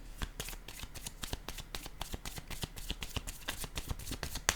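Playing cards are handled and shuffled during a group card game, a rapid run of crisp riffling flicks close up, steady and fairly quiet, with no voices.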